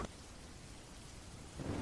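Rain pours steadily in a brief storm, a dense wash of drops with a low thunder rumble swelling near the end; no voices.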